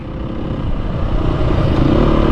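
A Beta 430 dirt bike rides along on a trail, its engine loud and close with a rough, steady drone and light rattling clatter, no voices.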